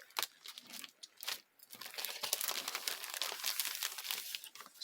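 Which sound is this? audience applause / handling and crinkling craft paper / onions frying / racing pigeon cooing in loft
handling and crinkling craft paper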